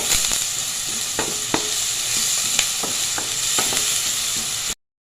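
Sliced onions fry with salt and turmeric in a hot pan under a steady, close sizzle. A spoon stirs with intermittent scraping clicks until the sound cuts off at the end.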